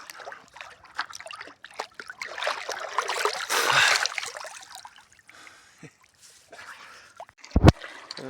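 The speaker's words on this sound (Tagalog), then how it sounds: "parating na ang tubig" Water trickles and splashes close by as it flows in at a bathing spot where people gather clams, with soft gurgling and a louder surge midway and a sharp knock near the end.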